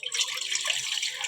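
Water runs steadily into a cooking pot being filled to boil noodles, a continuous bright hiss and splash lasting about a second, close and fairly quiet with no voices.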